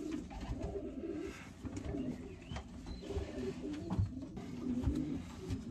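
Racing pigeons coo steadily in a training basket, a dense, continuous murmur of soft throaty calls from many birds close by, with no talk over them.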